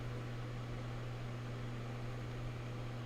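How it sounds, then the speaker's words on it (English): Electric fan running on high beside the microphone, a steady airy hiss with a low hum, faint and unbroken with no voices; the trickle of a fish tank is not distinct. "Now what I've done is I have a fan turned on next to me."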